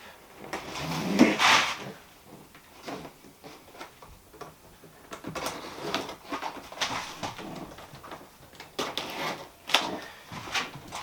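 A knife slices packing tape on the shipping box of a 2025 Traxxas XRT Ultimate RC truck, making several short, close, scratchy rasps separated by quieter handling of the cardboard.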